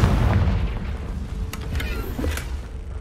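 The Confringo blasting spell in Hogwarts Legacy goes off as a loud, close booming explosion with a deep rumble, followed by a few sharper crackling bursts as the blast dies away.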